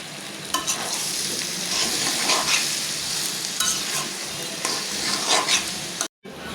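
Mixed vegetables stir-fried in a pan, a loud continuous sizzle broken by repeated scraping stirs, briefly cut off near the end.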